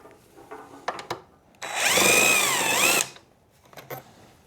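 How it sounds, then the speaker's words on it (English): A power driver spins out a 10 millimeter bolt on the air box of a Jeep Gladiator in one loud, close whir that lasts about a second and a half and rises and falls in pitch. A few light clicks and taps come before and after it. "So to remove this air box, you have to remove this bolt right here."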